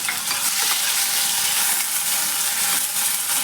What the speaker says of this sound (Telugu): ఇలా ఆనియన్, మిర్చి, కరివేపాకు యాడ్ చేసినాక ఒకసారి కలుపుకుందాం.